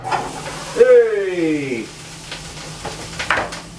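Vegan mince and tatties frying in a pan, a steady hiss and sizzle running underneath with clinks of stirring; a voice calls out loudly over the cooking near the start.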